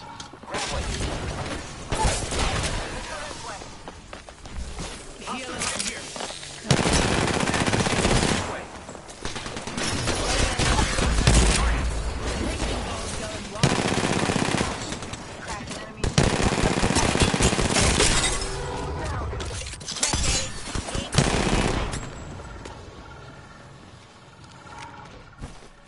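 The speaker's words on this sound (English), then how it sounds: "I am taking fire, friends." Heavy bursts of automatic gunfire in a competitive online shooter, the player's position under attack, with loud rattling volleys coming in waves and a voice talking between them.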